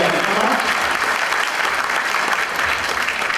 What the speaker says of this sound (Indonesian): saya minta tolong tepuk tangan buat kita lagi semuanya